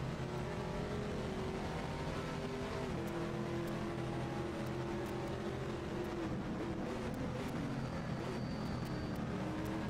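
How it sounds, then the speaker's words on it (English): GT3 race car engines, including a Corvette, roar and whine continuously in the racing game Automobilista, a dense layered drone of several cars at speed, fairly close and steady throughout. "I'm hearing Ghost GT3 cars again."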